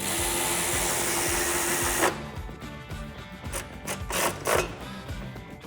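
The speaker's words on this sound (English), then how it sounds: "Now I can tighten up that hardware." A power tool whirs loudly and continuously while tightening exhaust hardware on a 2011-2012 Mustang GT, then stops abruptly and gives way to quieter clicks and short rattling bursts of work on the fittings.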